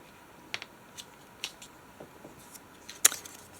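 A sheet of paper is folded in half by hand for a handmade traveler's notebook, giving faint, sparse crinkles and soft taps with quiet pauses between them and one sharper crease near the end.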